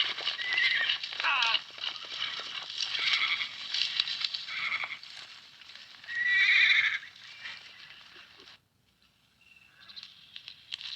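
Horses neigh loudly several times amid a patter of hooves, with people talking nearby and a brief near-silence toward the end.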